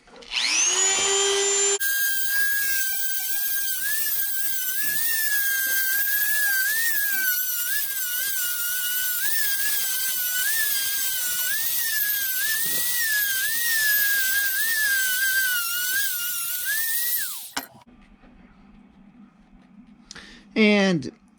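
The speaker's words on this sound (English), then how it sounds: "so let's try this sanding drum. I know this stuff will cut through aluminum pretty good." A rotary tool spins a sanding drum against aluminum, shaping a Star Trek Mirror Universe dagger; a loud, steady high-pitched grinding whine runs for about sixteen seconds with rhythmic wavering as pressure changes, then cuts off into quiet handling sounds.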